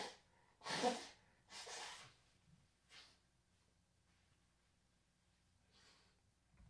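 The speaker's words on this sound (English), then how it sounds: "I'm going to blow my nose real quick" A few short, breathy nasal blasts close by, two strong ones followed by smaller snorts, then quiet.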